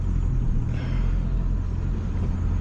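Truck with a swapped 7.3 Powerstroke diesel engine set in eco mode pulling away, a steady low rumble close to the listener without pauses.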